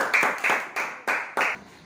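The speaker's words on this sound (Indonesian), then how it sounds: "Kita beri tepuk tangan dulu untuk kelompok 1." A classroom gives a student group five short bursts of unison hand claps in an even rhythm, each burst sharp and close.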